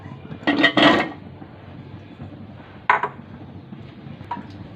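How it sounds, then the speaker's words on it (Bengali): Potato and cucumber pieces dropped into a pan of spiced rui fish curry, heard as two brief clattering bursts of pieces and utensil against the pan, with quiet gaps between, no talk. "এখন দিয়ে দেব এর মধ্যে আলু। এখন দিয়ে দেব শসা।"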